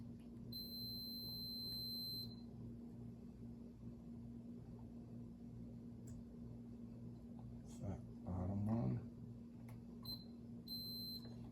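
A multimeter on continuity test gives a steady high electronic beep in short bursts, quiet and close, over low hum, while working on a 2004 Toyota 4Runner rear hatch switch.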